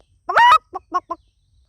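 A man vocally imitates a hen, giving a loud squawking cluck followed by three short clucks, close and clear against silence.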